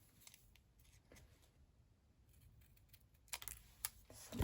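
Quiet scattered snips and crisp clicks of scissors cutting card, irregular, with a few sharper cuts near the end.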